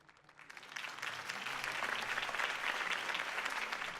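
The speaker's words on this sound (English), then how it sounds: "If only Mr. Wayne, my campaign's largest backer, could have heard that applause" A video game crowd breaks into applause that swells within the first second and holds as a steady, dense clapping roar to the end.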